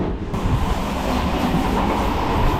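Loud, continuous rattling and rumbling of train wagons in motion, heard up close between cars, with a steady clatter throughout.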